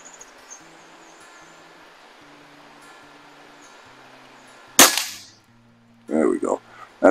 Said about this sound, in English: that is the Hatsan Model 95 spring-powered air rifle at 25 yards